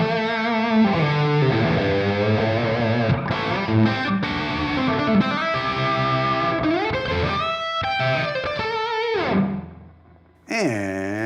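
Heavy distorted electric guitar lead playing with bends and sustained notes runs continuously through a Revv G20 amplifier on its Crypt reverb setting, loud and up close, ending in a brief drop before a final strum.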